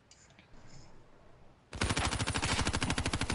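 Rapid automatic gunfire in a shooting video game bursts in after a quiet moment, a loud, dense string of shots in quick rhythm.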